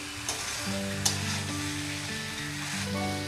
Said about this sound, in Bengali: একটু টাইম ধরে ভালো করে মশলার সাথে মাংসটা কষিয়ে নিতে হবে।